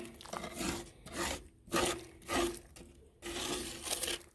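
A stick scraping built-up gunk out of a charcoal grill outdoors in rain, with several rough rasping bursts separated by short pauses, close and fairly loud, no talking.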